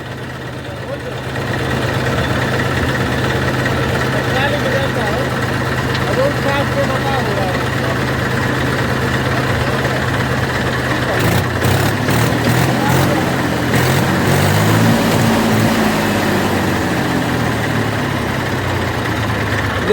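Tractor engines, a Swaraj 744 and an Eicher 380, run at idle close by after being pulled out of mud. The diesel drone is loud and steady throughout, and voices talk over it partway through.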